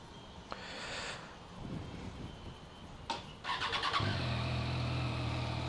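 A motorcycle engine starts up with a rider on board, after some rustling and clatter. It settles into a steady, nearby idle rumble.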